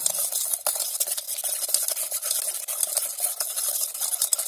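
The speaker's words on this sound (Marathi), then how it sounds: "चांगलं हलवत राहायचं" Cake batter mixed with curd being stirred in a bowl for an eggless vanilla sponge cake, giving a steady wet scraping and swishing that runs without a break at close range, with no talking.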